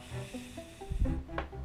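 A short hissing burst of Azzaro Wanted by Night fragrance spraying from its atomizer, close and fairly soft, with a second brief spritz near the end.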